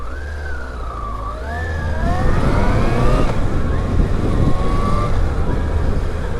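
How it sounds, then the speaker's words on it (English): Original factory-fitted alarm on a 1998 Yamaha YZF R1 sports bike wailing with a loud, continuous siren that sweeps up and down in pitch, sounding close over a low engine-like rumble, with no talking. "Still got the original alarm on this, back in 1998"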